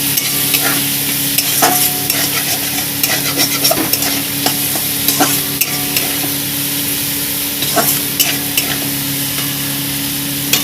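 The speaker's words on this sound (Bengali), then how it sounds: "কোচানো পেঁয়াজ আর কাঁচা লঙ্কাটা একই তেলে দিয়ে দিলাম ভালো করে নাড়িয়ে নেব" Chopped onion and green chilli frying in oil while a spatula stirs steadily, a loud continuous sizzle dotted with rapid scraping clicks against the pan, close up with no one speaking.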